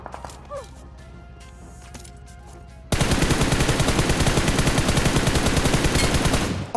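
Gunfire from a compound in a mobile battle royale game: after quiet ambient clicks and footsteps, loud rapid automatic fire erupts and continues steadily for several seconds.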